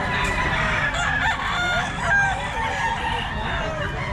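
Several gamefowl roosters crow and cluck close by at a small seller's stall in Pampanga, overlapping loud calls that rise and fall throughout.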